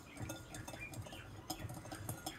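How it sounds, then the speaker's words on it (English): A paper mache mixture is whisked in a bowl for a hot air balloon craft, making quiet, rhythmic clinks and swishes as the whisk strikes the bowl several times in quick succession. "Whisk it up."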